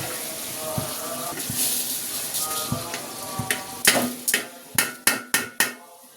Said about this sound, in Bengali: এখন আমি পোলাও চালটা ঢেলে দিচ্ছি